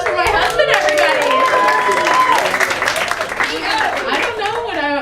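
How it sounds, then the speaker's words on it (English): A comedy club audience at a stand-up show claps and cheers in a steady burst of applause, with shouts and voices of the performer and crowd mixed in throughout. "Round of applause for my husband, everybody!"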